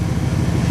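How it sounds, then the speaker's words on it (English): A Dodge truck stuck in mud idles to warm its transmission, a loud, close, low engine rumble with a steady pulsing throb over a very short stretch. "Got it idling to get a warm transmission so we can hopefully get her out"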